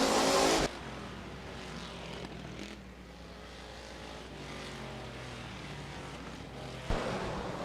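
Sportsman-class stock cars race at a dirt speedway: a loud engine roar passes at the start, a steady drone of distant cars follows, and another car surges close near the end.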